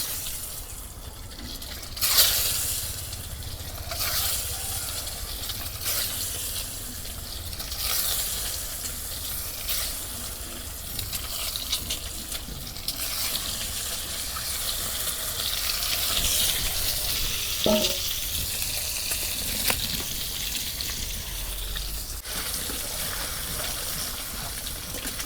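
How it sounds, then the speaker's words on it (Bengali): Eggs frying in a pan with turmeric, dried chilli and salt for an egg curry, giving a soft, steady sizzle with watery crackle and a few brief utensil clinks, no talk. "ডিম ভাজা হয়েছে, এখন আমি নামে নিব।"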